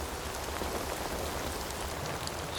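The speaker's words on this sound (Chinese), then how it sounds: "如此大雨" Heavy rain pouring steadily onto surfaces, a dense, even wash of drops with no pauses or voices throughout.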